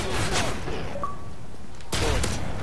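Shotgun blasts in Modern Warfare 3 Survival Mode, two loud booming shots with a quieter gap between them and game sounds around them.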